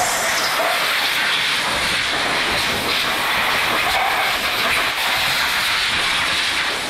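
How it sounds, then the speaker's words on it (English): Compressed-air blow gun blasting dirt and debris off the valve cover of a 2006-2016 Hyundai/Kia 2.0 or 2.4 engine, a loud, steady, close hiss lasting the whole stretch without pause. "we're just gonna take a blow gun here and blow as much of this dirt and debris from around the valve cover area away"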